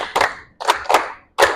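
A group claps together in a school sports session, giving a short run of crisp unison claps with uneven gaps between them, loud and near.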